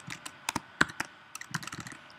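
Keys tapped on a computer keyboard while email addresses are typed, a quiet run of irregular clicks with short bursts and pauses, close and alone.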